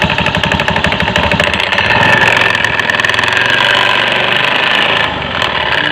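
A Honda automatic scooter with a rough CVT V-belt is revved up close, the engine climbing from a knocking idle into a loud, gritty drone with a coarse rattling undertone before easing off.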